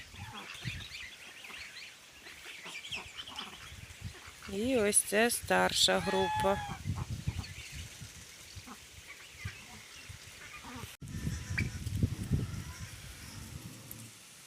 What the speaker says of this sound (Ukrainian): Випустила своїх качок гусей трішки попастися і зараз вам покажу.